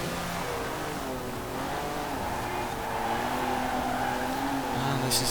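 Classic mid-engine supercar in Forza Horizon 4 racing steadily, its engine tone rising and holding under faint tire squeal, continuous and fairly loud throughout.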